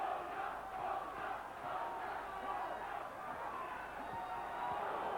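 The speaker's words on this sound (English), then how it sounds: "40 seconds to go as the crowd chants Boza, Boza." A boxing arena crowd at a lightweight bout chants a boxer's name in a steady, continuous roar heard at a distance, with no clear individual voices standing out.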